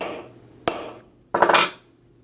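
Two sharp hammer strikes on a metal rivet set at the edge of a desk while assembling an Aquaman cosplay armor piece, a quick tap followed by a louder, ringing double blow, close and isolated.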